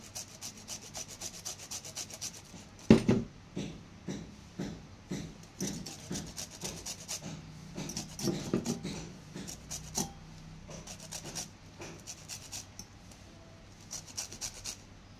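Gandharaj lemon rind rubbed against a grater in a kitchen, a quiet series of short rhythmic scraping strokes with one sharper knock near the start.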